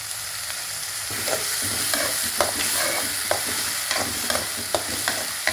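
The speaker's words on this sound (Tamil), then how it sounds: "நல்லா வதக்கணும்." Duck eggs sautéed in a frying pan, a steady sizzle under repeated sharp scrapes and taps of a spatula stirring at an irregular rhythm, close and moderately loud with no talking.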